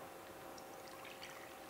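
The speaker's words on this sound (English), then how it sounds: "we're gonna pour some water" Water pours steadily and softly into cauliflower fried rice, a short continuous splashing trickle with no voices.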